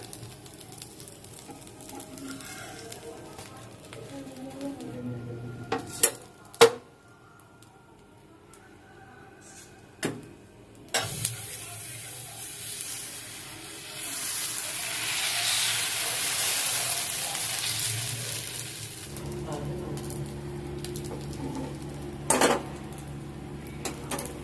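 Dosa batter cooking on a non-stick tawa in a home kitchen, a faint hiss and sizzle rising midway, punctuated by sharp clinks of utensils and pans, with no talking.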